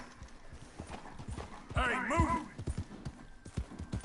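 A horse's hooves clip-clop steadily under a rider in the Western video game Red Dead Redemption 2, with a whinny partway through and someone talking over the hoofbeats.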